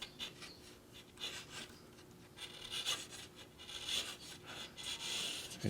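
A sharp pattern maker's gouge with a straight-across edge slices through wood, giving repeated short scraping, rasping strokes at an uneven rhythm, close and fairly quiet.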